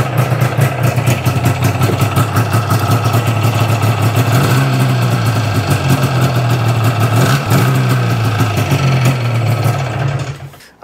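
Rebuilt motor engine running after carburetor work, rich on fuel with oil lines full: a loud, steady close idle with a rapid buzzing pulse, then it cuts off abruptly near the end.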